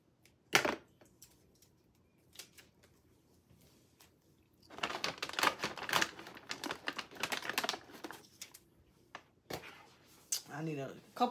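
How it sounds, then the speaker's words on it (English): Adhesive tape is pulled from the roll and pressed onto a DIY Father's Day vending machine craft, giving a few isolated snaps and then a stretch of crackly ripping bursts, close and fairly quiet, with talking near the end. "So I'm going to put some tape on"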